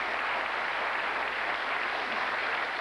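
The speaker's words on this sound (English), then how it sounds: "I think that's worth a round of applause" Studio audience applause on the 1984 Christmas/New Year special of the ITV game show Bullseye, a steady, dense wash of clapping hands that fills the room for about three seconds without voices over it.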